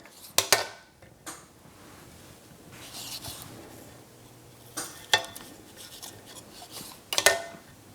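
A knife cuts into a baked Reese's peanut butter cup cookie with a peanut butter center, giving a few sharp scrapes and taps of blade on plate, close and quiet, separated by soft handling noise.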